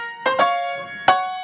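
Piano played without pedal in a short dotted rhythm: three quick struck notes, the first two close together and the third after a pause, close and clear, each dying away dry with no talk.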